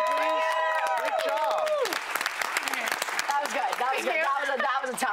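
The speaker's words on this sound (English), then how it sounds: "Can we have a round of applause for Savannah, please?" Studio audience on a Pictionary game show breaks into loud, sustained applause and cheering, with voices talking and calling out over the clapping throughout.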